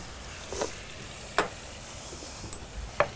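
Beef and onion frying in a casserole pan, a steady soft sizzle with a few sharp clicks and scrapes of stirring breaking through now and then.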